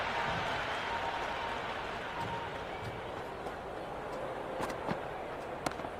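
A stadium crowd in the Cricket 26 video game keeps up a steady, dense roar of cheering and applause throughout. The crowd stays in the background while a commentator speaks over it.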